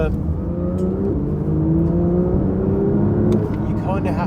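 Porsche 911 GT3 engine pulling hard in a moving car, a loud sustained rising drone with stepped pitch climbs, heard from inside under someone talking.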